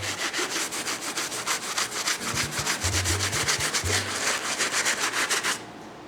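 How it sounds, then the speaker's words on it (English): A stiff bristle brush scrubbing yellowed Pure Money sneakers, with fast, even back-and-forth strokes that rasp close up for several seconds and then stop. "Now we're gonna get into using our stiff bristle brush, or our wire tip bristle brush, to give these an even deeper scrub."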